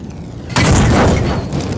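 A Molotov cocktail bursts into flame in the VR game Bonelab, starting with a sudden loud whoosh that turns into a roaring, crackling fire after a quieter lead-in.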